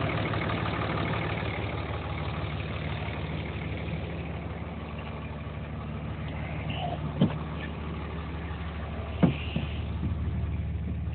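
A 2005 Dodge pickup with a 5.9 24-valve common rail diesel idling after running a few minutes, a steady rumbling clatter with a couple of brief sharper knocks near the end.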